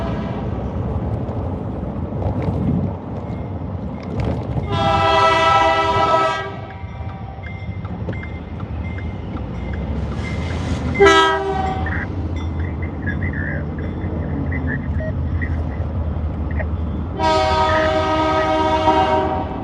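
An eastbound manifest freight train passes, rumbling steadily while its horn blasts loudly three times, spaced apart, over the continuous clatter of rolling cars.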